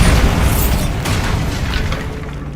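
A Bombarda blast spell from the Hogwarts Legacy video game goes off as a loud, booming explosion. A dense roar follows and keeps rumbling for a few seconds before slowly fading.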